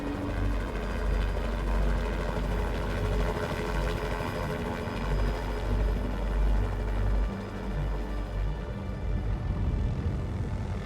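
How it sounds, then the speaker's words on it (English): A helicopter drones steadily overhead during a rescue from an active volcano, a loud, continuous rotor and engine roar that swells slightly and stays close throughout. "All of a sudden I hear this helicopter flying overhead"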